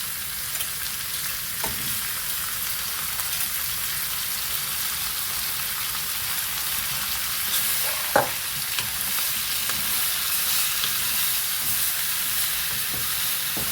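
Chicken pieces sizzle steadily in a pan with browned onions for a curry, a constant bright hiss with a few soft clacks of stirring, quiet and close, no talking.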